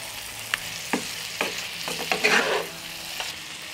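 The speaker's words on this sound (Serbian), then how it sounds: "Promešat ću i pržite još 1 minut i naše jelo je gotovo." Sliced zucchini frying in a pan, a soft continuous sizzle broken by several distinct scraping stirs of a utensil against the pan, close and alone.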